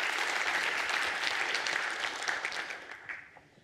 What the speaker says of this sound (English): A round of applause for Sewuese.